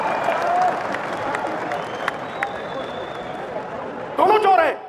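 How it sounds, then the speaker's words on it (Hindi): Audience applause at a political rally speech, a steady broadband patter of many hands spread across the whole stretch, with a speaker's voice cutting over it and a louder shouted burst near the end. "ठोको ठोको, ताली ठोको"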